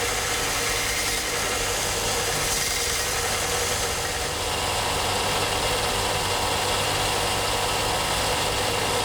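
Belt sander grinding a shop-made gear cutter shank, a steady, dense whirring roar of belt on steel running continuously and fairly loud throughout, with no voices.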